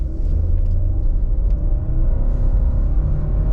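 A 2024 Subaru Crosstrek Sport with the 2.5 liter engine accelerating hard from a standstill in sport mode, heard as a loud, steady low engine rumble from inside the cabin with no voices.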